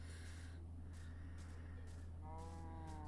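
A cow lowing in Minecraft, one drawn-out moo near the end over a steady low background hum, no talking.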